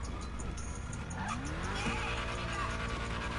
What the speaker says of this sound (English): Nice, Pork Chop, rev it up once.